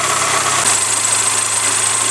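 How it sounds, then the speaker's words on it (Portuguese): A 1993 Suzuki Vitara's 1.6-litre 8-valve engine idles close up after throttle-body and injector work, a steady, even hum with a faint low pulse and no speech. "Tá bem bacaninha mesmo, ó, motor paradinho, ó, sereninho."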